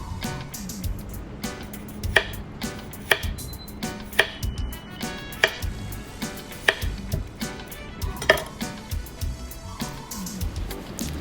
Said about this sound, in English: We're going to slice some tomato. And some red onions.